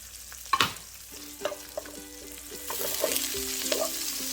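Garlic hits a very hot pan over high heat for vegan pad thai, giving a sharp sizzle burst followed by steady frying crackle and a few utensil scrapes while stirring.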